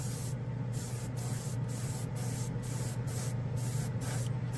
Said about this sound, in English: it likes this airbrush. It is putting it out really nice